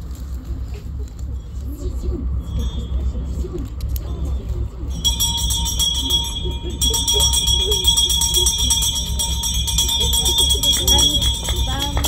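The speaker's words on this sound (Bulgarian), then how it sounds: "За тази цел най-малката ни ученичка ще бие звънец." At a school's opening ceremony, a handbell rung by the youngest pupil sets in about halfway through as a continuous bright jangling, going on under murmuring and talk from the crowd.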